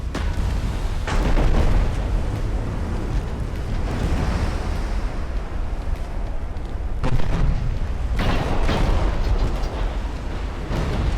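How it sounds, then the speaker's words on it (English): Torpedo detonation aboard a warship in the naval game Ultimate Admiral: Dreadnoughts, heard as a steady roar of heavy blasts with rumbling booms and churning water, swelling in several louder bursts. "Looks like it was a detonation in the aft torpedo room."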